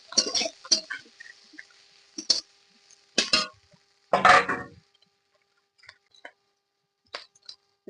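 Shredded cabbage hitting a hot pan of prawns in a village kitchen, with sharp sizzling bursts and clinks of a stirring utensil in short separated spurts, louder midway, then quieter scattered taps.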